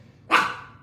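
A dog gives one sharp, close bark that rings out briefly and fades in a quiet indoor room.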